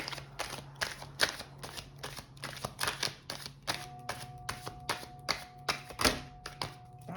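Tarot cards slapping and riffling as a deck is shuffled and cards spill out, a quick run of soft close flicks and taps with a faint hum behind.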